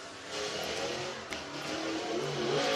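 A race car at Whynot Motorsports Park runs its single qualifying lap in Group A of the Fall Classic, its engine a steady, fairly distant roar that builds slightly toward the end with no talk.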